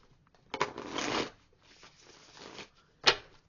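A deck of tarot cards being shuffled by hand, two riffling bursts followed by a softer pass and a short sharp snap at the end, close and quiet with no talking.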